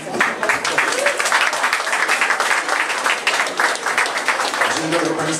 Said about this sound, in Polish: Wprawdzie oklaski nie były planowane w tym miejscu